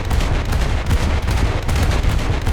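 Heavy naval gunfire in the War Thunder video game, from a Yuri-class Asagao warship's guns, rolling as dense, loud, continuous booming blasts with no pauses.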